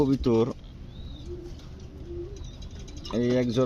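Pigeons coo in soft, low, drawn-out tones during a pause between bursts of a man's speech, with a faint higher bird call over them.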